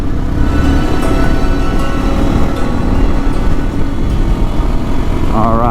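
Honda CRF 250 Rally motorcycle cruising on a highway, a loud, steady engine drone mixed with heavy wind rush, continuous for several seconds with no talking.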